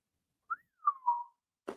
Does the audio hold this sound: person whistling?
yes